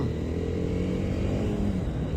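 A TVS Apache motorcycle with fairing runs while being ridden, its engine giving a steady low drone with slight vibration, close and continuous for the whole stretch, with no talk.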